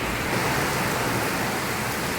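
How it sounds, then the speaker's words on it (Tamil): Heavy rain pours down during a thunderstorm, a dense, unbroken hiss of water that stays loud and even from start to finish, with no voices. "செம மழையாக இருக்கு"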